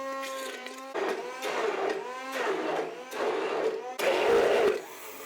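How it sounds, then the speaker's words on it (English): A kitchen blender blends diced tomatoes for seed saving, whirring in four or five short pulses of about a second each, loud and close with a droning motor whine and no talk. "For larger quantities of seeds, or for small cherry or wild tomato varieties, dice the fruit and mix everything in a blender."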